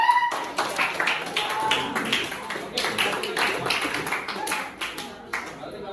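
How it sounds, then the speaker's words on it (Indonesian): Classroom audience clapping for a student after a teaching-practice lesson: a dense, steady patter of many hands clapping for several seconds, fairly close, then thinning out near the end. "Tepuk tangan buat."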